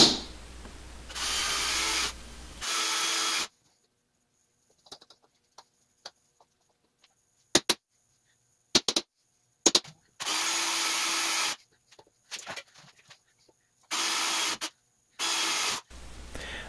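Several loud bursts of a power drill whirring through an aluminium door frame, separated by silent pauses and a few sharp clicks and taps.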